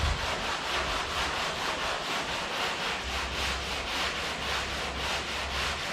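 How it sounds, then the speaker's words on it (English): Car bodywork is sanded by hand in rapid, rhythmic back-and-forth rasping strokes, steady and close for several seconds with no voices. "And now we can continue to sand"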